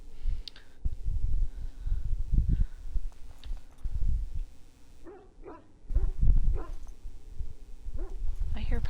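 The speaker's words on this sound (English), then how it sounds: "I hear puppy doggies." Dogs bark and whimper in the fantasy role-playing game Dragon Age: Origins, short yips and barks recurring through the clip under steady game ambience and a talking voice.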